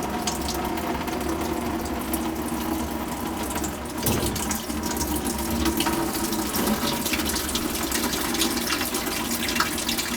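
Water rushes steadily from a freshly cut pipe beside an outside sill faucet, a continuous close splashing flow that stays loud and even throughout, with no talk.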